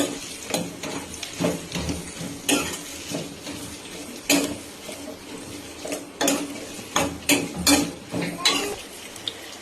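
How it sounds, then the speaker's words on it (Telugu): Finely chopped ginger fries in a pan with a soft, low sizzle, broken by frequent sharp clinks and scrapes of a utensil against the pan at an irregular pace. "మనం సన్నగా తరిగి పెట్టుకున్న అల్లం, ఒకసారి బాగా ఫ్రై చేసుకున్నాం"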